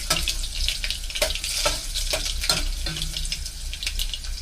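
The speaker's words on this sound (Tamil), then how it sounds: "சீரகம், கடுகு போட்டோடனே பூண்டு போட்டு நல்லா எண்ணெயில் நல்லா வதக்கிட்டுன்னு வச்சுக்கோங்களேன்." Garlic sautés in hot oil with cumin and mustard seeds in a home kitchen, giving a steady close sizzle broken by sharp spatula scrapes and stirring clatter. No one speaks.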